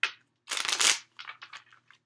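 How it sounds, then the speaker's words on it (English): A bag moved nearby gives crisp, crinkly rustling in short bursts, one long loud crackle followed by several quicker, softer crinkles, with quiet gaps between them. "Let me move this bag. It just made a shit ton of noise."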